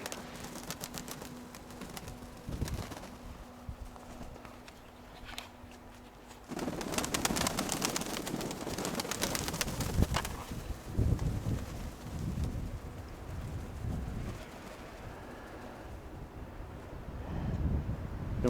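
Pigeons coo in a loft or yard in the evening, soft repeated calls that grow denser partway through, mixed with wind rumble and fluttering movement close to the microphone.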